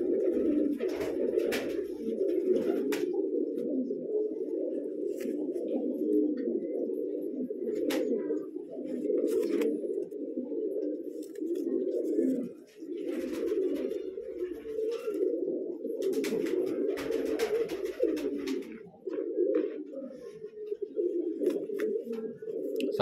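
Domestic pigeons in a loft in Bijnor district, Uttar Pradesh, coo continuously in low, throaty rolling calls, a flock murmuring close by with faint rustles and occasional sharper noises.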